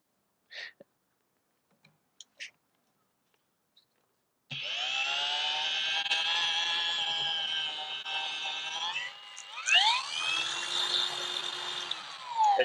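A rotary polisher spins up to clean a compound-laden polishing pad after rinsing and spraying, a steady loud whine that ramps in pitch for several seconds, drops, then revs up again, preceded by a few small clicks.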